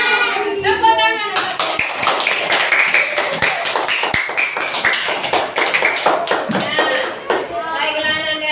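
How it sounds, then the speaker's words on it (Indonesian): A classroom full of people clapping together in a rapid, sustained burst, with voices briefly heard before and after the applause. "Tepuk tangan."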